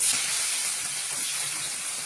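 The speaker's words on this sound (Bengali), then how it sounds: "এবার এই তেলের মধ্যে" Onions frying in oil in a pan during preparation of a jackfruit curry, giving a steady, close, broadband sizzle that holds constant without pause, with no voices over it.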